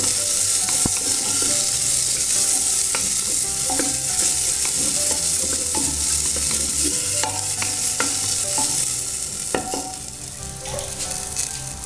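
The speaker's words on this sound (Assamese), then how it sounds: "এতিয়া অকণমান ড্ৰাই ফ্ৰুটছ, কাজু কিচমিচ আছে, সেইখিনিও দি দিম।" Cashews and raisins frying in a pan for a sticky-rice pulao, a loud continuous close sizzle with scattered clinks and scrapes of stirring throughout.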